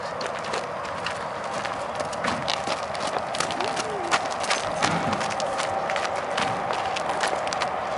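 A mare's hooves clip-clop steadily in an outdoor setting with broadband background noise, and people can be heard nearby.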